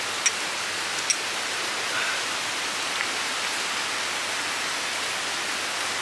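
Rain falls steadily outdoors on a rainy afternoon, a dense even hiss that stays constant throughout, with a couple of faint isolated ticks near the start and no speech.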